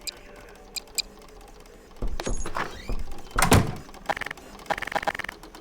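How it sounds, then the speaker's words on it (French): Doors opening and closing inside a Garry's Mod DarkRP game, several mechanical clunks and slides with sharp clicks spread across the stretch, fairly close and moderately loud against a quiet background. "J'entends des bruits de porte, ça me fait stresser."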